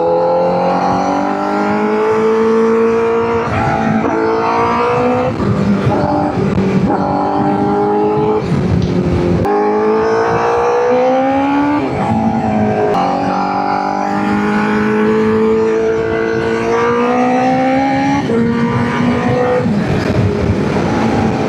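A motorcycle engine runs close and loud throughout, revving up and down through repeated rising pitch sweeps as it shifts gears, with no pauses.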